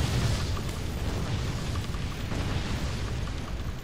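A rumbling wash of chain-reacting explosions fills the artillery battle game Forts, a continuous dense roar of blasts and crackling without clear gaps, moderately loud and steady throughout.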